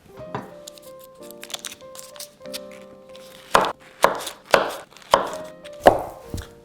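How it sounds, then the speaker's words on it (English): A knife cuts cold unsalted butter sticks into chunks on a board. Soft slicing at first, then about six sharp, evenly spaced chops that stand out clearly and close by. "We're basically gonna cut these up into 2 tablespoon chunks, so you have about 4 per stick."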